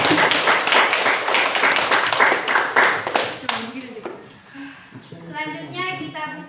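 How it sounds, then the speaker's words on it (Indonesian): A group in an Indonesian classroom session applauds group 2 with a few seconds of brisk, fairly close clapping that fades out. Voices follow, with a person speaking afterward. "Ya, kita beri aplaus untuk kelompok 2."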